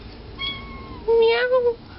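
A house cat meows twice up close: a faint short call first, then a loud, long, wavering meow.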